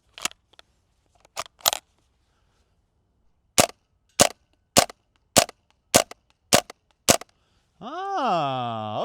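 An airsoft gun with a silencer attached fires a string of sharp, dry snaps, two quick shots then six evenly spaced ones, close and distinct, followed by a rising whine at the end.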